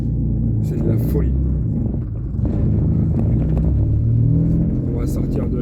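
A warm Mazda MX5 sports car engine runs with a steady low rumble and some wind noise, close and continuous beneath someone talking in French.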